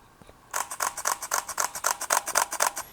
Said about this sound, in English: One thing you'll notice is the shutter sound is really quiet and a nice sound.